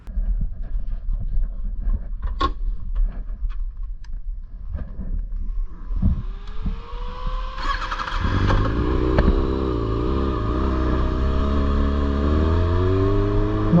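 A stunt motorcycle, a newly acquired bike, is ridden at a practice lot; its engine starts low and uneven, then revs up sharply and holds a loud, steady, rising roar close by.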